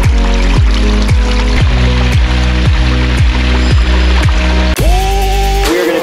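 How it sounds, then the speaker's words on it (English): Water trickling and splashing steadily through a pondless waterfall, a continuous close wash with a rhythmic thumping and a brief tonal sweep near the end. "A pondless waterfall."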